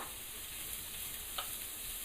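Diced onion cooking over medium-high heat in a pan as a risotto base, giving a faint, even frying hiss with a couple of tiny taps, no voices.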